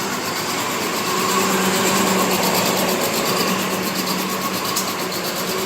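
A 2008 Chevy Trailblazer engine idles steadily with a rough, buzzy exhaust note, loud and close, holding a constant level without any talking.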